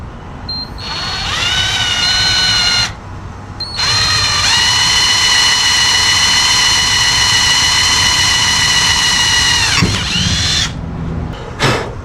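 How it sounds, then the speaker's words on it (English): A power drill bores a larger hole through an aluminum transmission valve body from a 42RE rebuild, a loud steady whine running nearly the whole time with two brief pauses where the bit stops and restarts. "So here we go right through the aluminum."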